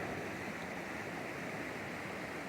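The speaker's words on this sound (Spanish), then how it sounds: "Sigue todavía bajando mucha agua" Heavy water pours steadily down at a river reservoir dam, a dense, continuous roaring rush that holds even and unbroken throughout with no voices.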